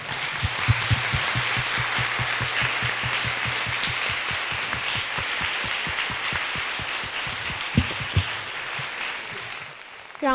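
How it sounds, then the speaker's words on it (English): An audience at a university salon discussion applauds the speaker and moderator with dense, steady clapping that runs close and loud for about ten seconds, then tapers off at the end. "Let's applaud and thank the speaker and moderator."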